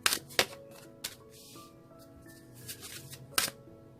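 Tarot cards being shuffled by hand, a few sharp riffling bursts and soft flicks spaced across the moment, fairly close and clear.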